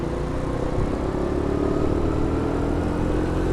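A small, zippy motorcycle rides through Brooklyn, its engine humming steadily up close with road and wind noise, without any talking.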